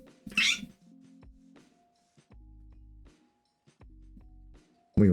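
A pet cat meows repeatedly indoors, several drawn-out nasal cries with pauses between, close and fairly loud, with a sharper yowl at the end.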